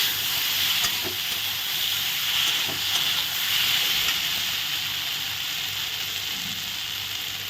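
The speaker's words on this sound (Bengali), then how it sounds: "একটু ভালো করে নাড়াচাড়া করে দেবো" Dhekia fern greens with mustard paste and green chilli being stirred in a pan give a steady close sizzling and frying hiss throughout, with faint scraping bursts of the spatula and no talking.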